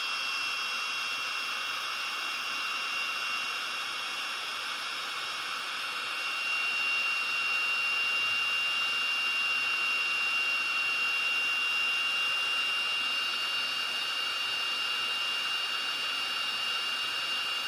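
A heat tool blasts steadily over embossing powder held under it too long, a close, continuous broadband whoosh with a whining tone that grows slightly louder midway and runs unbroken throughout.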